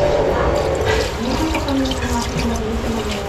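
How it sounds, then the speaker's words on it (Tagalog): Tap water runs steadily into a cooking pot holding meat, a continuous splashing pour that shifts pitch slightly as the pot fills. "Yan, lagyan ko na siya ng tubig."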